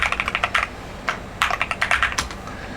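Fingers type quickly on a computer keyboard up close, a brisk irregular run of crisp key clicks with short pauses between bursts over a faint room hiss, no talking.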